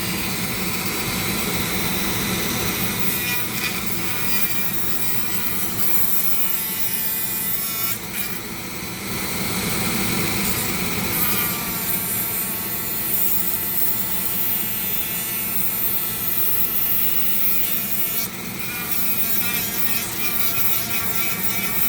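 A Dremel rotary tool carving a purple heart wood ring gives a loud, continuous high-pitched whine with a grinding buzz. The pitch dips briefly a couple of times as the bit bites into the wood.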